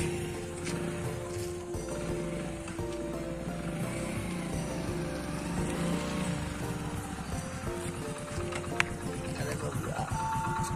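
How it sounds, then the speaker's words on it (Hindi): A kick-started motorcycle with no battery idles steadily at night beside a market street, its engine note running continuously under a voice talking nearby. "गाड़ी ऐसा किक मारने पड़ता है, बैटरी नहीं है।"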